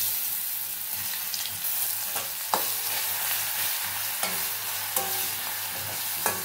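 Garlic paste hits hot oil tempered with bay leaf, whole cumin and whole garam masala, giving a loud, continuous close-up sizzle with repeated spoon scrapes and taps against the pan.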